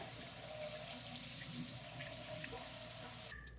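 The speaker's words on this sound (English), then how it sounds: "Run it under a little bit of warm water." Steady broadband rush of warm tap water running into a sink, continuous and fairly close, cutting off abruptly at the end.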